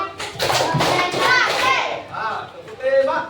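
Children in a classroom clap out a rhythm, quick bursts of group hand claps early on, then their chattering young voices take over and the clapping fades behind them.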